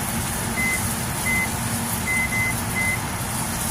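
A kitchen timer beeps while being set, a run of short, evenly pitched electronic beeps over a steady loud background hum, with no talking.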